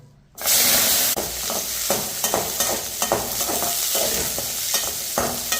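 Cashew nuts, washed and still damp, roasting in a pan until golden brown give a loud, steady sizzle with a burst at the start, broken by repeated scraping stirs, and no voices.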